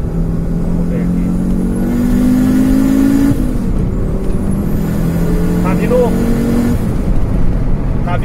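A Fiat Marea Turbo pulls hard in second gear on a Brazilian highway, its engine note climbing steadily in pitch as it accelerates, loud and close from inside the car, with a brief dip before a second rising pull.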